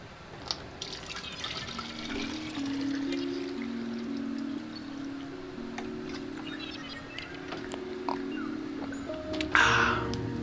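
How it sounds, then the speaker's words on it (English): Water poured into a glass at close range, a quiet steady trickle with rising gurgling pitch that runs for several seconds, followed by a brief clink near the end. "Let me pour myself a little more water here."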